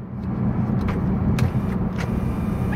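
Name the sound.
2019 Toyota Camry XSE moonroof sliding open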